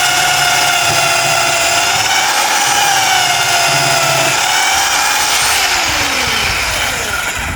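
A power drill boring into wood, a loud continuous high whine that holds steady then dips in pitch as the bit bites, close and alone with no talk.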